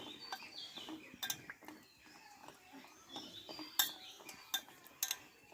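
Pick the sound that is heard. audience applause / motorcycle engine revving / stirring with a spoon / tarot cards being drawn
stirring with a spoon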